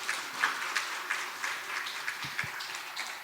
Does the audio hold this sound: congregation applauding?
yes